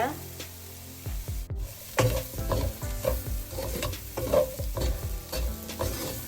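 Prawns being stirred and fried in a pan for a prawn noodle dish, loud close sizzling with repeated rhythmic spatula scrapes and clatters against the pan, steady throughout.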